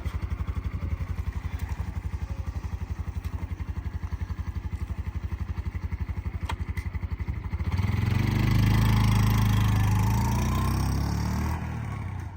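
A 2020 Honda Super Cub's small eight-horsepower engine chugs at a steady, rapid idle, then surges into a louder, sustained rev near the end, heard up close with no one speaking.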